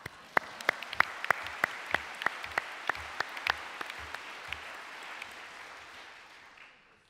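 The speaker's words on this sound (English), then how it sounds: "now I can accept an applause" Applause from the audience at a business meeting of the IAU General Assembly 2018, with loud, distinct claps in a steady rhythm that blur into a fading wash and trail off near the end.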